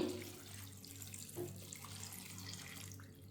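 A glass of water is poured for a vegetable roll filling with carrot, cabbage, potato and peas: a soft, steady, fairly faint pouring stream lasting about three seconds.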